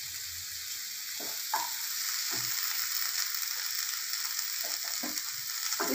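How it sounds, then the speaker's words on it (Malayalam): Chopped tomatoes go into frying spices in a pan for a peanut vegetable curry, giving a soft continuous sizzle with a few brief scraping stirs, close and fairly quiet, with no talk. "ഇനി അതിനകത്തേക്ക് നമ്മൾ ആ കട്ട് ചെയ്ത് വെച്ചിരിക്കുന്ന തക്കാളി ചേർത്ത് കൊടുക്കുന്നു"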